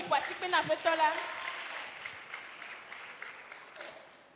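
A church congregation answers a call to praise with a short burst of voices, cheers and clapping that peaks early, then thins into scattered, fainter applause and murmurs.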